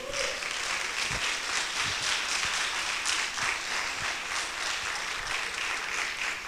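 A church congregation applauds during a service, with a thick wash of clapping and a few sharper individual claps standing out at fairly regular intervals, moderately loud and unbroken.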